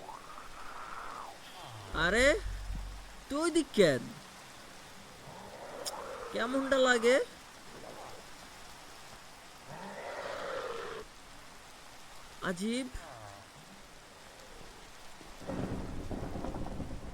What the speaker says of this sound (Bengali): বৃষ্টি পড়ে কি? ও আচ্ছা বৃষ্টি পড়ে।